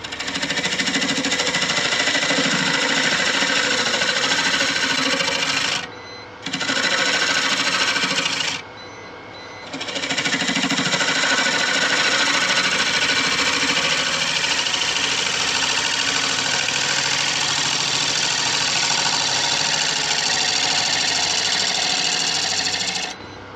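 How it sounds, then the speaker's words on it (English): A woodturning lathe runs as a round carbide tool scrapes a resin-filled bowl, giving a loud, continuous gritty buzz that cuts out briefly twice before carrying on steadily. "I'm gonna hit in there with the round carbide because that resin is not getting the finish I want on it."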